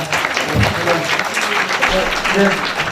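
Audience at a social welfare lecture claps for a professor, a moderate wash of applause with a few voices speaking over it near the end.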